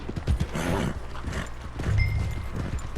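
Horses at stables in a video game, with hoof clip-clops and creaking tack or wood, a heavy snort or low horse sound near the end, all fairly close amid ambient game noise.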